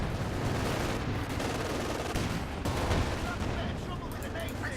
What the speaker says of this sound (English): That is a lot of Bren fire.